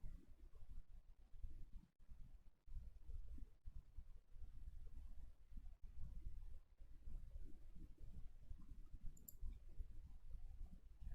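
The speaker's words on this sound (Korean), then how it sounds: "여기를 클릭 한번 해주실까요?" A computer mouse clicks a few times, the clicks faint, sharp and spaced apart over a quiet background hum.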